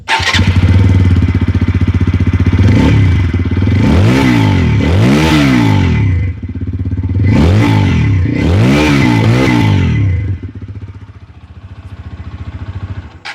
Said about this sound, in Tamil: அப்பாச்சி RTR 164Vயோட எக்ஸாஸ்ட் நோட் எப்படி இருக்குது அப்படின்னு இப்போ நம்ம பார்த்துடலாம்